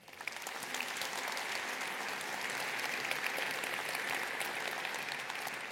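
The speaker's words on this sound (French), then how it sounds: "Vous pouvez vous applaudir." A keynote audience applauds itself in a large hall, a sustained, loud wall of clapping that swells quickly and holds steady.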